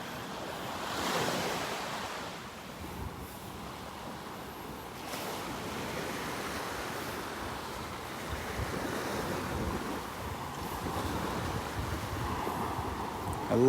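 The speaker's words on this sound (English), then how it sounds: "I love watching the waves come in under the trees here." Gulf surf at Delnor-Wiggins beach rolls in under old dead sea grape trees, a steady wash of waves breaking and receding, joined by wind rumbling on the microphone and no voices.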